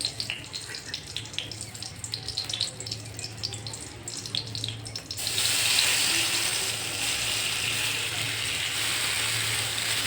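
Tamarind water poured into a cooking pan: a quieter stretch with small metallic clicks, then a sudden, loud, steady rush of pouring liquid that continues to the end.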